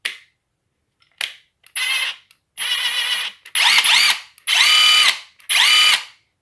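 Bosch PSB 1800 Li-2 cordless drill with a brushed motor, run in bursts: about five short whirring spins of rising and falling pitch separated by pauses, close and fairly loud, with no talking.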